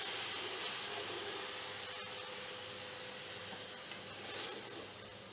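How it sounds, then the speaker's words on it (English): Sake poured into a hot pan to deglaze the fond while cooking shredded beef, giving a steady, fairly faint steamy hiss and sizzle that lasts throughout without talking. "then we are going to deglaze with a bit of sake."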